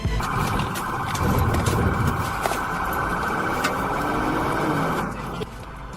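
A Virginia State Police patrol car responding to a wrong-way driver sounds its siren in a loud, sustained wail over road noise, cutting off shortly before the end.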